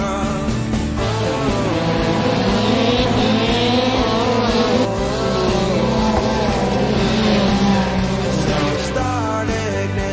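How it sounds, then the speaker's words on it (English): Race cars in an Indianapolis 500 sim race at Indianapolis Motor Speedway drone continuously and loudly, their high engine whine rising and falling as the pack circles, with no voices over it. "Pace car working itself through turn at number 3 and 4."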